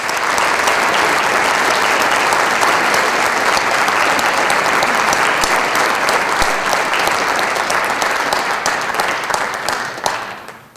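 A crowd at the 2018 City of Yuma inauguration gives sustained, dense applause for newly sworn-in city officials, a loud continuous roar of clapping that holds for about ten seconds before tapering off.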